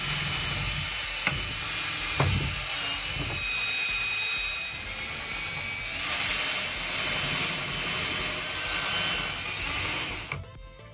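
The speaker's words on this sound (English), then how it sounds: "I just need to drill those out so they're the appropriate size for each of those." A drill bores out holes in a wood organizer piece, a steady whirring grind held for about ten seconds with a few knocks near the start, then cutting off at the end.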